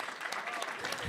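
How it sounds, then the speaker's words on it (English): Brief burst of crowd applause at a professional association's annual institute, dense clapping with voices mixed in over about a second. "Can I just give a giant round of applause?"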